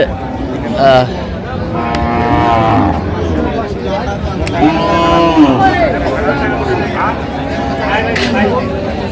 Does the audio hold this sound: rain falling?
no